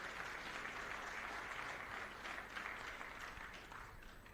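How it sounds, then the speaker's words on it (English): Audience clapping at a conference event fills the hall as a steady wash of applause, moderately distant and fairly faint, continuing without a break before easing slightly at the end. "So if we can clap for him."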